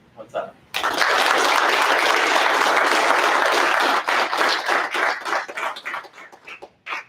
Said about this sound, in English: Let's give one more round of applause for the class of 22-17.